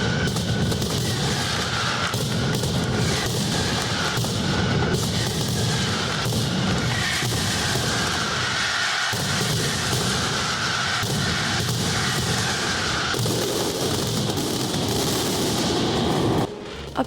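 A Fallas mascletà in a Valencia town square, with hundreds of kilograms of gunpowder firecrackers exploding in a dense, relentless barrage of loud cracks and booms, building continuously and then cutting off abruptly.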